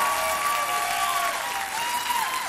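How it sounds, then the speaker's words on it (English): Audience applause at the 2013 Silver Vixen Gala, a steady, loud wash of crowd clapping with some whistle-like tones that holds throughout. "How about a round of applause for the Marching Eagles"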